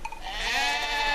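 A sheep bleats loudly and close by, one long wavering call in an open outdoor setting where the flock is hemmed in by snow.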